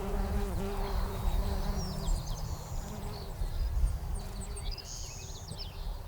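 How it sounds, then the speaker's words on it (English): Bees and other insects buzz steadily and loudly across a flower farm in May, with scattered birdsong chirping above the drone. "All you hear are birds and bees and the hum of life."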